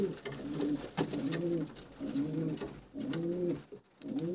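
A desi pigeon in a home loft coos in repeated low, throaty phrases, several rounded calls with short gaps between them, close and clear over faint background noise.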